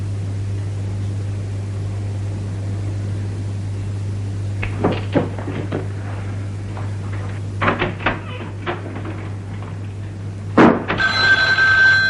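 Thuds and clatter from handling objects come first, over a steady low hum, then a telephone bell starts ringing loudly near the end.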